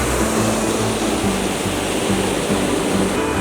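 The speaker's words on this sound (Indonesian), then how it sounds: "Apalagi melihat air-air yang terjun" A waterfall in a pine forest at Rahong, Pangalengan, gives a loud, continuous rushing roar of falling water, close and unbroken throughout.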